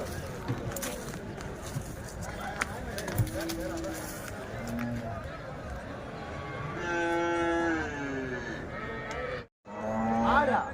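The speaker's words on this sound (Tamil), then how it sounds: "இதெல்லாம் ஏர் மாடு தாங்க ஏர் மாடுங்க" Cattle at a cattle market in Vaniyambadi low several times, with a long loud moo near the end, amid crowd chatter and background market noise.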